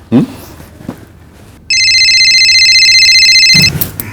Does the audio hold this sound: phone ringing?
yes